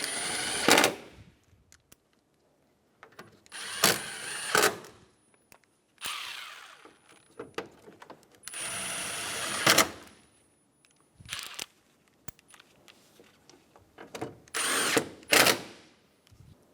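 A power tool drives bolts into a 2012-2020 Chevrolet Sonic front upper grille in repeated short bursts, each whirring run stopping abruptly, with quiet pauses between them.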